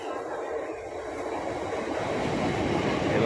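A fast Mumbai local train rushes past a station platform, its rising roar and rolling wheel noise building steadily and growing louder toward the end, a continuous broadband rush close by.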